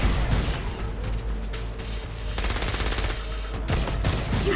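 Heavy, continuous machine-gun fire and a chaotic firefight in the action game Saints Row: Gat out of Hell, sustained and dense throughout with a deep rumbling background and no speech over it.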